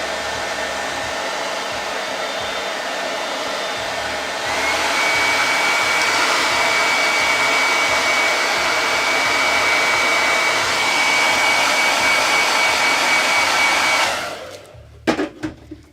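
A handheld hair dryer blowing on wet paint on a wooden Santa Claus North Pole Christmas directional sign, a loud continuous whoosh that steps up to a higher setting partway, then switches off, leaving brief handling clatter.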